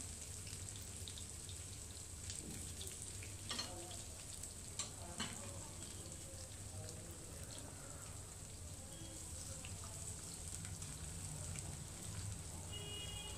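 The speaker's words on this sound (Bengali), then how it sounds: "পেঁয়াজ আর রসুনটা ভাজা ভাজা হতে থাক" A steady sizzle of onion and garlic frying in hot oil goes on throughout, with a few faint clinks and stirring noises, no voices.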